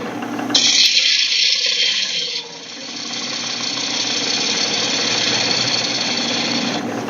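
A woodturning gouge with a swept-back wing grind cuts down into the centre of a spinning workpiece on a lathe. It makes a loud, continuous rasping hiss that shifts in tone partway through and then holds steady, with no talk.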